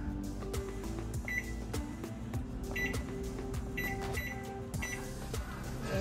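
A kitchen oven is set and started, with a series of short, bright electronic beeps from its control panel spaced irregularly over a few seconds against a steady background hum.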